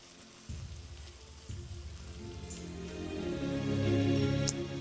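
Chicken chow mein frying in a pan over high flame, a close sizzling hiss that jumps in bursts as ingredients go in and swells louder and denser toward the end, with light stirring clatter.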